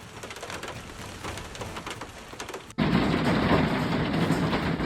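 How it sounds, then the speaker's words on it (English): Hail falling continuously during a Melbourne storm, a dense steady patter that jumps abruptly louder and fuller midway, as if the listening spot shifts closer to the pelting ice. "Hail falls continuously, forcing everyone to run for cover without understanding what is happening."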